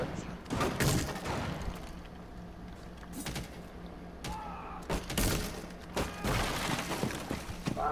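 Gunfire in the tactical shooter game Rainbow Six Siege: several loud bursts of shots and impacts come in clusters over a rumbling background, with talk now and then.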